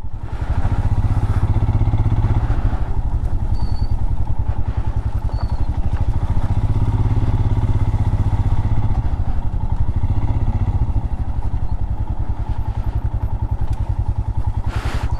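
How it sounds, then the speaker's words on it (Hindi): Motorcycle ridden slowly over a rough, sandy track near Siachen in Ladakh, its engine thudding steadily close up with clattering from the bumpy ground throughout, no talk. "बाइक स्लिप कर जाती है, धंसने लगती है इसमें, तो बड़ी संभल संभल के चलानी पड़ती है।"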